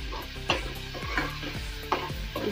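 Spices roasting in a pan with salt, red chili powder and turmeric, a low sizzle with a few distinct spoon scrapes and clinks against the pan at irregular intervals.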